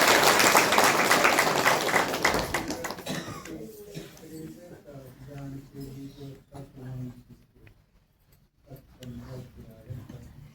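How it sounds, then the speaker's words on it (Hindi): Applause from a seated class audience at a spiritual talk rises loudly at the start and fades over the first few seconds, followed by someone speaking. "इसकी तो ताली बजाओ"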